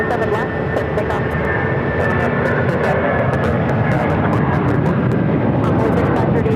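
A Delta jet airliner taking off from runway 7 left at Phoenix Sky Harbor roars loudly and steadily, a dense engine rumble with a sustained whine, joined by radio chatter.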